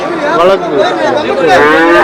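Cattle lowing at the Melapalayam cattle market, loud and close, with several overlapping drawn-out moos amid a busy crowd of chattering voices.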